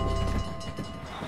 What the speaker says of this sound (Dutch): Er komt een trein aan.